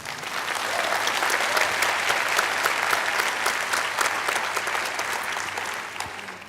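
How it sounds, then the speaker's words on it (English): Applause greets a speaker at a university opening ceremony near Dublin, a full room of sustained clapping rising quickly, holding strong for several seconds, then tapering slightly at the end. "An applause for her."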